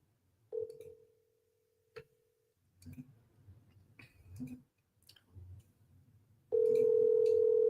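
A phone call is placed to a real estate agent: a steady tone runs for about a second and a half, then after pauses between quiet clicks and low sounds a loud, continuous tone starts at the end and holds.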